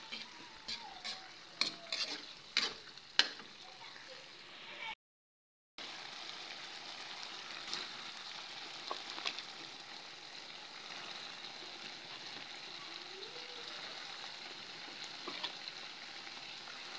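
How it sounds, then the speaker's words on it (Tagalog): Sardines being sautéed with winged beans in a pan, faint and distant: a few sharp utensil clicks at first, a brief dropout, then a low, steady frying hiss. "Gigisa natin sa may sardinas"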